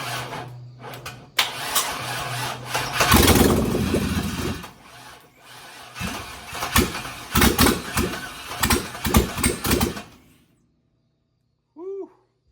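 An old 51 engine, brought back to life, cranks and catches with uneven bursts, stumbling and revving in rough surges before cutting out into silence, close and loud; a brief whoop of a voice follows at the end.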